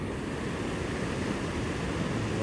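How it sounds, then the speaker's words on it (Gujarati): Sea waves washing onto a shore in the morning in Oman, a steady, loud broadband surf roar with constant low rumble and no talking. "મોજા જો મોજા"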